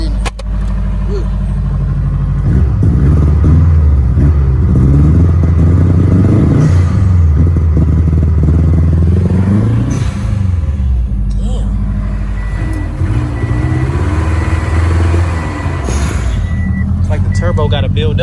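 Turbocharged Subaru Impreza STI engine revving hard, a loud sustained drone that rises and falls in pitch with the throttle, with a voice talking over it.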